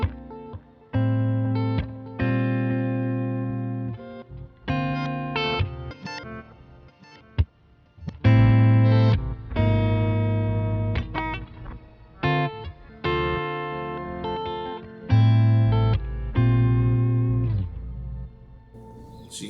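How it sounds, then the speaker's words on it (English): Clean electric guitar notes ring out with lush reverb, chopped and stuttered by a glitchy effect into abrupt bursts and repeats. "Now what I can do with that is I can add a glitch."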